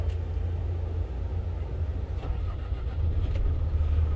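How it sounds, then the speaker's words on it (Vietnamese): A JAC A5 truck engine rumbles steadily at close range after starting, a low, continuous idle with no voices over it. "Đó thì em vừa mới bật động cơ nha."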